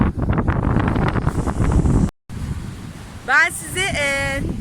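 Wind buffets the microphone with a low rushing roar over sea waves at a sandy beach, broken by a brief dropout and followed by a voice talking.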